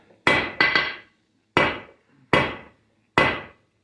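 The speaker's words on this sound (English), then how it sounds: "I'm using round face on my hammer" A round-faced hammer strikes hot steel on an anvil five times, drawing out a candle holder, in a slow, uneven rhythm, the first two blows quickly together, each ringing and decaying sharply.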